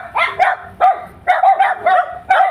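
Dogs bark loudly and close by in a steady series of sharp bow-wows, about six barks in quick rhythmic bursts with short gaps between them.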